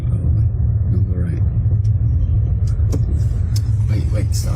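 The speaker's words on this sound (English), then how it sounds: "There's a car coming though." A car approaches and passes on a road near a fire scene, a steady low rumble under bursts of nearby talk and outdoor noise.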